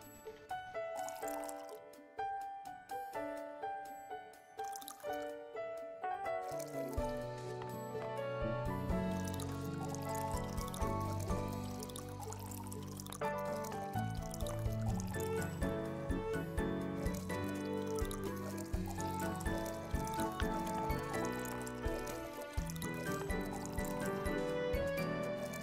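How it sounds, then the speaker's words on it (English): Watering grass in the farming video game Snacko gives soft dripping and pattering liquid sounds that run steadily under game music for about twenty-five seconds. "if you water the grass outside, it doesn't do anything"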